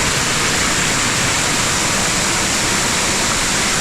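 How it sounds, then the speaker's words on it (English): Dense, steady roar of a waterfall on a hike in Juayua, a loud broadband rush of falling water heard close up and alone, with no voices. "And there is an awesome view of that waterfall."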